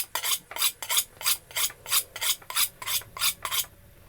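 A kitchen knife drawn across the coarse side of a whetstone, making ten or so regular, evenly spaced rasping strokes, close and clear with no talking.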